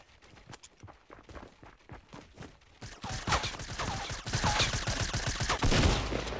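Rapid video game gunfire, a fast stream of sharp shots growing louder and denser partway through, with footsteps and other game effects mixed in.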